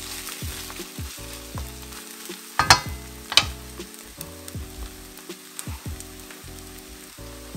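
A spatula scrapes the bottom of a pan while keto pad thai stir-fries, a close sizzle under rhythmic scraping strokes with a couple of sharp metallic clacks midway.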